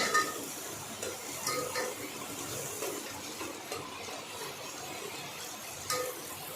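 Onion and finely chopped chillies fry in a pan at home, a soft sizzle broken by scraping stirs and light clinks of a utensil against metal, with a few sharper knocks and no talking.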